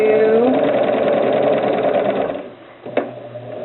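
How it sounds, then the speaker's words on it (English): A sewing machine stitching a zipper seam at a standard half-inch allowance, a fast rhythmic mechanical whir that runs steadily, then slows and stops, followed by a sharp click. "standard seam allowance, which is about a 1/2 inch, and we sew it down to"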